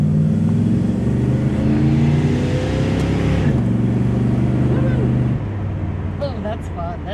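A 1978 Plymouth Volare Road Runner idles and revs nearby, its engine a steady, low throbbing hum with tonal harmonics that dips and shifts before dropping off near the end, with people talking over it.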